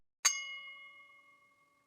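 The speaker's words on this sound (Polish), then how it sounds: "O ktoś dzwoni" A doorbell gives a single bright electronic ding that rings out and decays slowly over two seconds, alone in silence.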